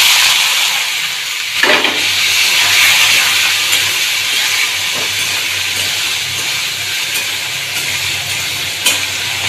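Vegetables frying with peanuts in a pan, a loud, steady hissing sizzle close by, punctuated by a few sharp stirring clacks and scrapes.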